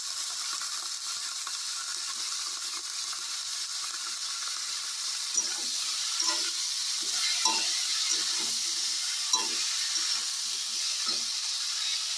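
Vegetables fry in a hot pan and are stirred, a steady sizzle running throughout with soft scraping and clatter of the spoon growing more frequent in the second half. No one speaks.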